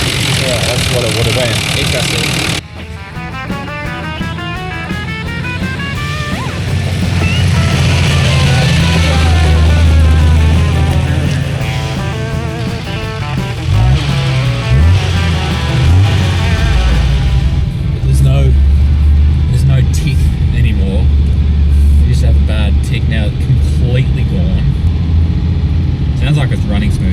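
A car engine running smoothly after a Seafoam additive treatment, a steady mid-pitched idle and rev that swells and holds loud, with people talking over it throughout.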